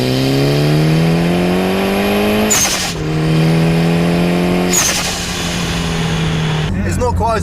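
A Mitsubishi Evo 6 Tommi Makinen engine revs hard and climbs through gears, with two sharp shift breaks between rising pulls, loud and close from inside the car, and a voice talking over the end.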